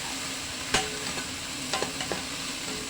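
Tomatoes and onions fry in a pan with a steady, moderate sizzle, punctuated by a few sharp clinks of a utensil against the pan.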